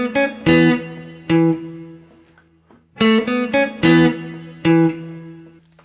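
A solo guitar plays another phrase of a song, a run of roughly eight picked notes in two groups with a short pause between, each ringing briefly, close, clean and without any voice.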